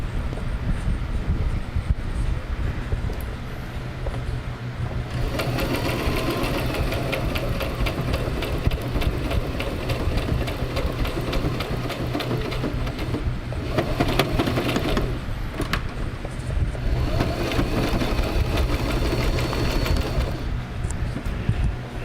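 A machine whirs continuously with a fast mechanical chatter that speeds up and slows in stretches, loud and close throughout.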